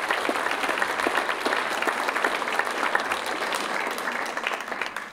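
Audience applause at a 2019 dance show stage performance, a dense, steady wash of clapping at moderate level lasting the whole stretch, with individual claps faintly poking through.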